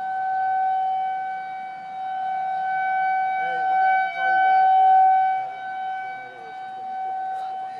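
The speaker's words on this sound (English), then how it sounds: "The sirens are going off." Tornado sirens wail across Omaha during a storm, a steady far-off civil defense tone rising and falling in loudness, with brief voices talking nearby partway through.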